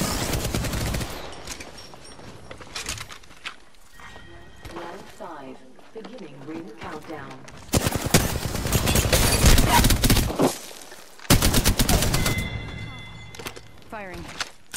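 Rapid automatic gunfire rattles in a battle royale shooter match with Pathfinder and Bangalore, arriving in two long, loud sustained bursts after quieter game sounds, with voices around.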